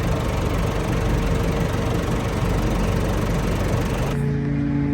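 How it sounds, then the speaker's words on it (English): A lawn mower engine runs loud and close with a steady droning roar while cutting grass on a sports field, then cuts off abruptly near the end, leaving a low hum. "Right, mowing is all done."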